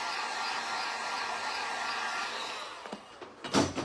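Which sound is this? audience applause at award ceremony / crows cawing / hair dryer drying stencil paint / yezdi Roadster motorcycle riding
hair dryer drying stencil paint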